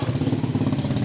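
Motorcycles come out nearby, their engines running with a steady, pulsing mid-pitched throb that stays loud and close for the whole brief moment.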